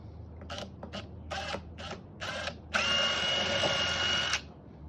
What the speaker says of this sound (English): So let me go ahead and drill those out right now.